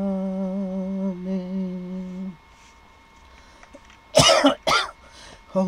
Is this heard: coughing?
yes